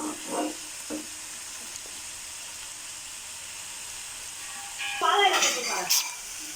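Bottle gourd poriyal with grated coconut being stirred in a pan gives a quiet, low sizzle with soft scrapes, then louder sizzling, hissing bursts toward the end.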